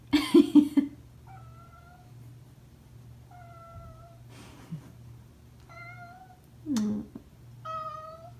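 A cat meows repeatedly, soft drawn-out calls spaced a second or two apart, nearby in a quiet room, with a few brief rustles and thumps.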